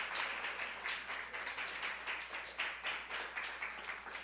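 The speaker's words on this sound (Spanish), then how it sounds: "Dele fuerte el aplauso al Señor." A church congregation claps during a sermon, faint and distant, in a steady rhythmic pattern of repeated pulses.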